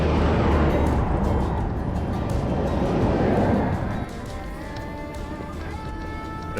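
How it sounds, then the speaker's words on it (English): Steady, loud broadband road roar from heavy traffic and trucks on a Texas Hill Country highway section beside a busy cement plant, with a passing vehicle swelling and then easing off, plus faint background talk. "it also has a little bit of a reputation for traffic and truck noise in certain sections. This was one of those sections."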